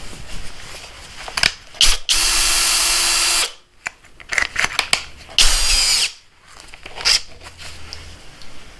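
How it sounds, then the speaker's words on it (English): A Greenworks 24V brushless drill with a 3/8 bit drills a hole in two loud sustained whirring bursts, split by a pause. Short clicks and ratcheting handling noises come between and after the runs. "I'm going to be drilling a hole here."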